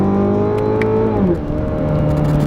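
A 2017 Chevrolet Camaro with the 2.0L turbo four pulls hard in third gear, its engine note rising steadily and then dipping briefly at a shift point before climbing again, loud and close from inside the cabin.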